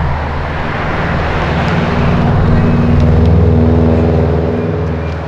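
Naturally aspirated BMW M3 V8 held at full throttle, a loud, dense, sustained engine roar that swells slightly in the middle and eases off at the end, with no speech.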